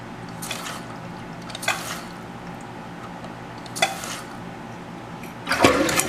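Water from a running toilet with a faulty fill valve runs steadily with a low hiss and trickle, broken by a few short sloshing bursts, the last one louder and splashier.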